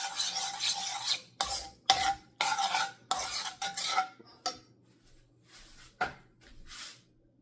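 Corned beef with tomato sauce stirred in a pan, a series of scraping, rasping utensil strokes in bursts with short pauses, close and fairly loud, no talking.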